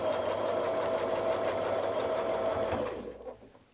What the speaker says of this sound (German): Und wir nähen zurück.